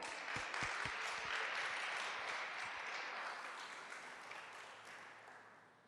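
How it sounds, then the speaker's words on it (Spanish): Congregation applause during a church consecration service, a dense wash of clapping that starts loud and slowly tapers over about six seconds, with a few low thumps near the start. "y quiero dar un aplauso"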